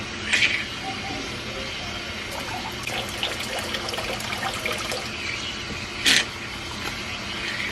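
Water runs into a 110-gallon stock tank, a continuous close splashing trickle with a couple of brief louder bursts, heard without any talk.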